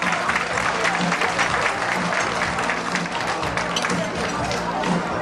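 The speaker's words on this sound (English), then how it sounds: "Let's give her another round of applause." Dense, sustained applause from a fundraising-dinner audience in Markham, Canada, a steady wash of many hands clapping at full strength throughout, with a low murmur of crowd voices beneath.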